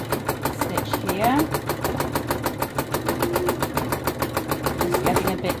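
Sewing machine running steadily for free-motion embroidery of lavender, a fast even mechanical rattle of stitching close by with a voice talking over it.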